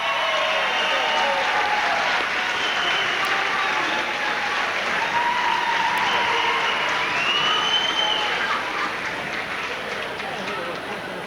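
Crowd at a high school wrestling sectional applauding the undefeated 171-pound champion, steady sustained clapping and cheering throughout in a large gym, with announcer-like voices mixed into the din.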